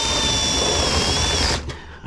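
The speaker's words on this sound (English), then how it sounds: "I'm putting a couple screws in it" Power drill driving screws into HVAC ductwork, a loud steady whirring motor close by that runs continuously and then cuts off abruptly, followed by a faint brief click.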